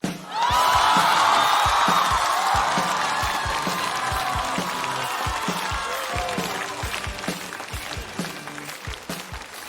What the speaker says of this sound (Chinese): 掌声有请黑灯